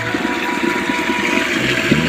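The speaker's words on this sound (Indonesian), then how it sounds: "Ini suara air ya," Water pours steadily from a bamboo spout beside a rice field, a continuous close splashing rush with no talk.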